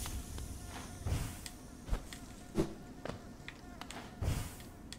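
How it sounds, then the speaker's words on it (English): Bee buzzing from the video game Hollow Knight, a low insect drone humming in the background with scattered soft thumps and game effects, fairly quiet throughout. "More buzzing. Ugh, I don't like bees."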